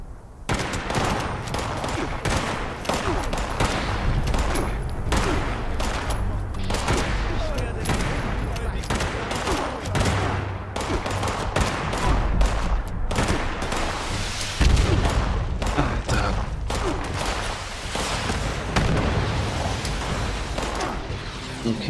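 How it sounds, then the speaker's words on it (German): Rocket blaster fire in the video game Fallout 76 roars as loud, dense, rapid bursts of shots and booms that continue without pause for over twenty seconds. "Okay, wir schießen jetzt mit Raketenblaster."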